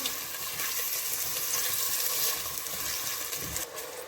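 Onions frying in a pan until golden, a steady close sizzle and hiss with no talk, while making mutton paya.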